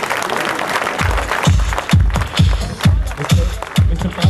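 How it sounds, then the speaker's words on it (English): Applause from an audience at a corporate annual day event, welcoming company executives onto the stage, with a regular low thumping beat running through the clapping and crowd noise. "Can we welcome them on stage with a round of applause?"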